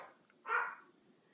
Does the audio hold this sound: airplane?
no